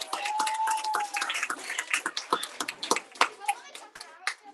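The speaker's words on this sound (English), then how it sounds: "Let's round of applause for all of our winners." Scattered clapping from a young audience at a team poetry slam, uneven individual claps mixed with children's voices and a brief whistle-like tone, moderately close.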